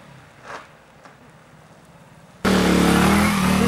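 An Alpha moped starts off or passes close by, quiet idle murmur for two seconds, then a sudden loud steady engine drone that holds to the end.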